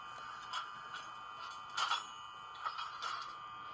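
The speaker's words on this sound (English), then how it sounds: "3 is the coupler clank." Coupler clank sound effect played from an Atlas N scale ALP-45DP DCC model locomotive: a series of bright metallic clanks and rings at irregular intervals over steady background hum, with no talking.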